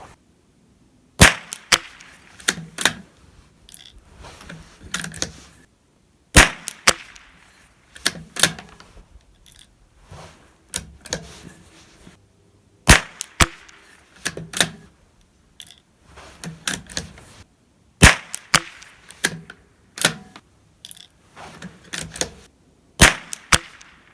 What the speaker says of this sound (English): let's move on to that second 5-shot group on the 47 product sled